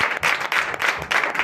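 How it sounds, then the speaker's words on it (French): A church congregation at a Sunday service in Comè, Benin, bursts into loud clapping and acclamation in pulsing waves, hands beating in quick bursts that swell and dip over a second and a half. "Donnez de vivre acclamation à notre Seigneur Jésus"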